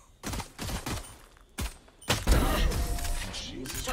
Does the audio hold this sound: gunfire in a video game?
yes